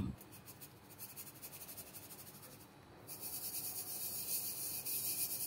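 Pancake batter dry ingredients, including powdered milk, being sifted through a sieve, giving a soft continuous rubbing rasp that grows louder and brighter partway through, with no talk.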